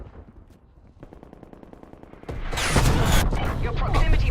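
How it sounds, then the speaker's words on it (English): Artillery fire in a first-person shooter game: a heavy, sustained barrage of booming blasts and crackling impacts swells up loudly after a quieter stretch of rapid mechanical ticking. "Artillery inbound."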